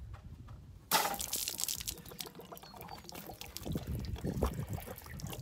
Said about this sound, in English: And there, it's draining the water.